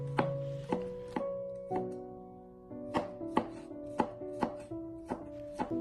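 A knife slices peeled garlic cloves on a cutting board in a home kitchen, making a steady series of crisp, close chopping taps, about a dozen evenly spaced strokes with a short pause midway.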